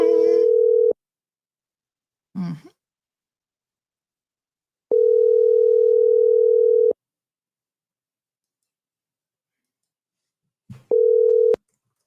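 Telephone ringback tone on an unanswered call, in long steady electronic beeps separated by silence, with one clipped final beep and brief clicks between rings.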